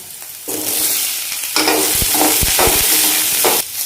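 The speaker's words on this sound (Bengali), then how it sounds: "পেঁয়াজটাকে একটু হালকা ভাজতে হবে পেঁয়াজের কাঁচা গন্ধটা যাতে চলে যায়" Onion, ginger, garlic and a green chilli sizzle loudly in a little hot oil for a mixed-vegetable dish, with steady frying hiss and scraping stirs throughout.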